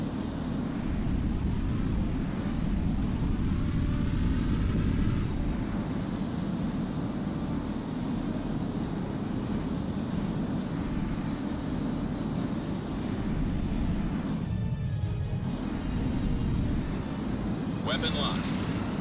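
Ground attack jet planes roaring past at high speed in a flight combat video game, a dense, loud rumbling jet wash with sweeping whooshes, under a voice talking.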